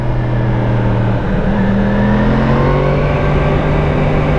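A 2017 Yamaha YZF-R1 motorcycle engine accelerates on the road, a loud steady roar with rising engine tones as it pulls through the gears, heard up close with no voices.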